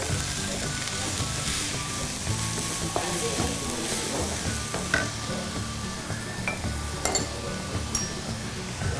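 Ginger capsicum fried rice is stirred and tossed in a hot pan just after salting, a steady close sizzle with scraping and occasional light clinks of the spoon against the metal.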